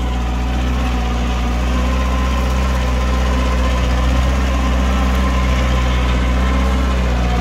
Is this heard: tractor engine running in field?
yes